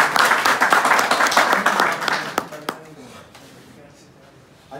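A crowd at a plumbers' meeting gives a burst of loud, dense applause that thins out and fades after a couple of seconds, leaving a quieter room with a few stray claps.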